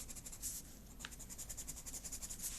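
A pen scratches across paper while shading sections of a fraction diagram, with quick rhythmic back-and-forth strokes, close and fairly quiet, with no talking.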